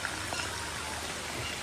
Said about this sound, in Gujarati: અને જો વરસાદ ચાલુ છે. થોડો ધીમો થયો એટલે બહાર આવી હું પાછી.